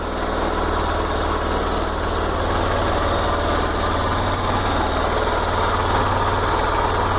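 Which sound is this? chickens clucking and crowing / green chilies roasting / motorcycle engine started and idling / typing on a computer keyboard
motorcycle engine started and idling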